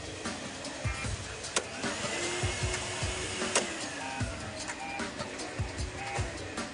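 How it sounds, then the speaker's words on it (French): Henry vacuum cleaners from Numatic run on a factory test bench, giving a steady motor drone with whining tones, scattered clicks and mechanical knocks. "les aspirateurs passent au banc d'essai"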